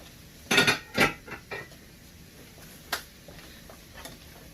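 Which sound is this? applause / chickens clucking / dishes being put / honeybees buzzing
dishes being put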